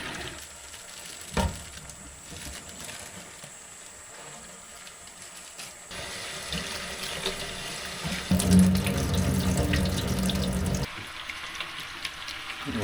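Hot water runs from a kitchen tap for blanching noodles, a steady splashing stream filling a sink that grows louder and heavier partway through before easing off.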